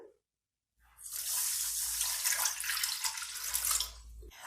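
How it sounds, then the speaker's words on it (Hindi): Water pours steadily into a pan for sugar syrup, a close, bright splashing stream lasting about three seconds after a brief silence, then cutting off. "1 कप पानी ऐड करेंगे।"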